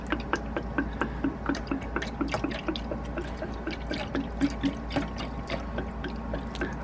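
Green coolant trickles and drips through a cardboard funnel into a Volvo Penta MD2020 marine engine. The faint, irregular splashes and pouring sounds run over a low background hum.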